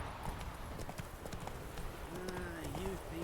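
Roach, the horse in The Witcher 3, gallops in a rapid, steady clip-clop of hooves, with a brief whinny-like tone near the end and game ambience underneath.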